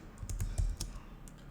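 Quick light taps on a computer keyboard as a short command is typed, a handful of close, soft keystrokes in an irregular burst in a quiet room.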